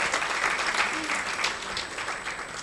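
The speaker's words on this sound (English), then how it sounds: "You can clap for them." An audience at a Kenyan governors' assembly breaks into steady, sustained applause, a dense continuous wash of many hands clapping, fairly loud and close, with a voice faintly audible underneath.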